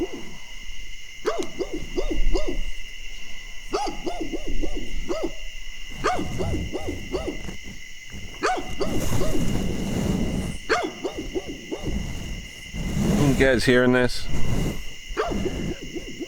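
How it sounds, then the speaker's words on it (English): A stray dog wandering past a roadside overnight stop on a Harley motorcycle trip, giving a few scattered barks and yips amid owl hoots and people talking nearby. "a stray dog walking by"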